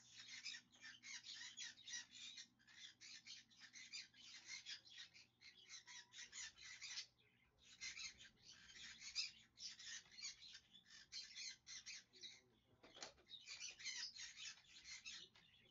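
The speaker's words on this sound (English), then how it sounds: "That is my green cheek sun conure that's in my room with me." A green-cheeked sun conure squawks and chatters indoors, steady rapid bursts of shrill calls going on for many seconds over a faint low hum.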